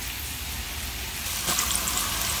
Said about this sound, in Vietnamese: Chiên khoai môn này là phải dầu nóng ha.